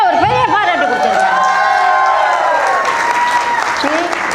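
Applause from an audience for a guest speaker, steady clapping throughout with voices and singing-like tones rising over it.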